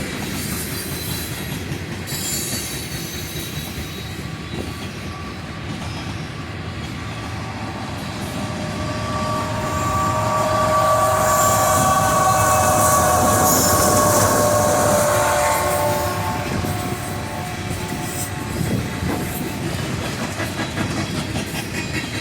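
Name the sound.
freight train passing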